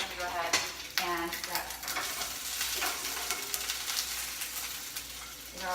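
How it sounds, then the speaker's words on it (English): Walnuts sizzle and crackle in a hot pan, with occasional scraping stirs against the metal, close and moderately loud. "lastly I added the walnut. And this is frying up really, really quickly"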